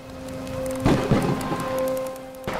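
Steady rain falls throughout, with a sharp thunderclap rumbling in near the middle and another crack at the end, a low sustained tone humming underneath.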